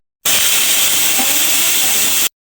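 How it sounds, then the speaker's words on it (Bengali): A pressure cooker full of mutton vents steam in one loud, close, continuous hiss lasting about two seconds, with no voices. "এবার কুকারটাকে আমি লাগিয়ে দেবো। এটাকে মিডিয়াম আছে 5টা মতো সিটি দিয়ে নেবো।"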